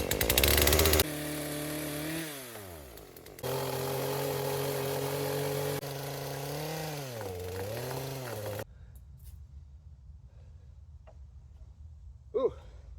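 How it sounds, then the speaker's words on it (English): A chainsaw drones loudly nearby, its engine pitch rising and dipping as it bites into branches, then cuts off, leaving quieter outdoor background with a brief knock. "clear some more branches with a chainsaw"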